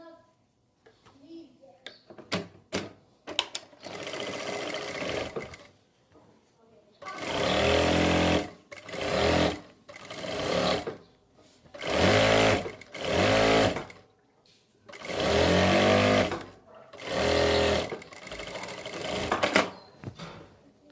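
Sewing machine stitching the fitting seam of a side-pleated kurti, running in several loud bursts of a few seconds each, separated by short pauses and brief handling sounds.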